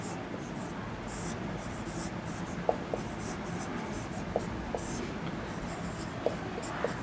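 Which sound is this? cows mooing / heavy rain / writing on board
writing on board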